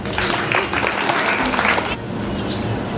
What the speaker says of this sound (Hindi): इनकी प्रतिभा के साथ साथ इनकी तालियों से इनका स्वागत करें